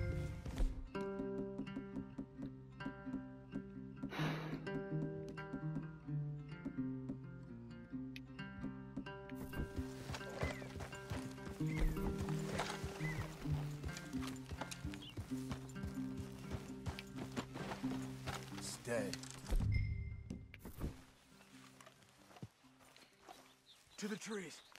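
Horse hooves clip-clop steadily beneath loud, continuous music, with a brief whinny rising partway through before the sound thins out near the end.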